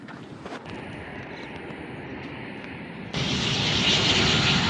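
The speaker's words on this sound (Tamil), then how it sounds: "அடுத்த ஃப்ளைட் வருது." A passing airplane's jet engine roar, loud and steady, swelling to a stronger rush partway through as the aircraft flies over near an airport in the Seychelles.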